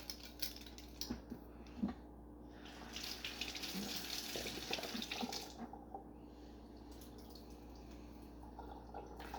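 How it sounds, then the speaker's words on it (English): A thin stream of water runs and splashes into a mixing bowl of brownie batter close by in a couple of short bursts, quiet against faint kitchen background noise. "Now, I want to add in a tablespoon of water."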